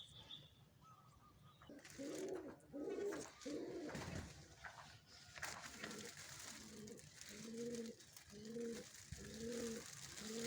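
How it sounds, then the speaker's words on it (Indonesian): Songbirds and doves among fruit trees call repeatedly: soft rhythmic cooing phrases recur throughout, with scattered chirps and higher song notes over a faint outdoor background, fairly near and moderately loud. "kita dengarkan burung-burung kicau pemakan buah"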